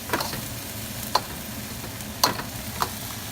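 Ham fried rice sizzles in a wok with a steady frying hiss, broken by a few sharp clinks and scrapes of the spatula against the wok.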